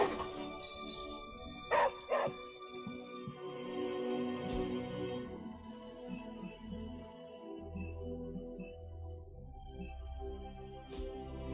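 Charlie, a dog in Marvel's Midnight Suns, gives a couple of sharp close barks at the start, then softer whimpering yips over quiet ambient game music.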